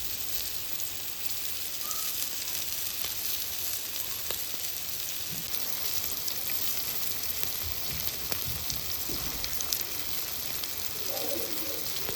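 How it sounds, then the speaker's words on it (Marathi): Snakehead fish fry in a pan with a steady, dense sizzle that runs unbroken throughout, fairly quiet and close, with faint clinks and no talking. "पाहू शकाल कशा प्रकारे आपले मासे फ्राय होतात"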